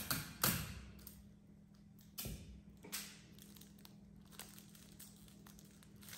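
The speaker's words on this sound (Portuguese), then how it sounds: "Uma fita adesiva." Adhesive tape handled and torn while packaging honey cake, close crinkly crackles and a few sharp rips and taps at intervals, quiet between bursts.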